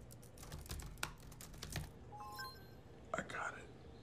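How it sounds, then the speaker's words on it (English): Rapid keystrokes clatter on a computer keyboard in a typing class, close and busy for a couple of seconds, then a few scattered taps follow amid quiet murmured speech. "How the fuck do you get so good on a computer? This is Hunt's typing class"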